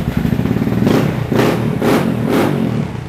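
A Yamaha RFZ 150 Thunder motorcycle is revved through its silencer in three or four rising throttle blips, a loud, close, raspy engine note between idle stretches.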